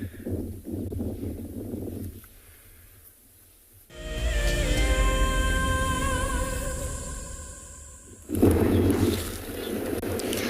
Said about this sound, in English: The wind is really, really picked up and I'm sure you can hear it.